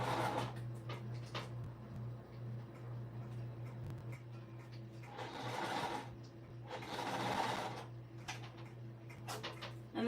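A sewing machine stitches plush Minky fabric for a stuffed ball, its motor running in steady bursts with pauses as the fabric is pivoted with the needle down, close and fairly loud over a constant low hum.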